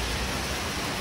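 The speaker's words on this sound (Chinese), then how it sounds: "你看这么大的雨，我今天没带伞" Heavy rain pours down outdoors in Wuhan during a sudden downpour, a steady, dense broadband hiss with no breaks, close and even throughout.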